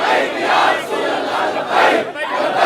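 A large crowd chants slogans in loud, rhythmic surges at a religious conference rally, swelling and dipping across the clip with no clear speech over it.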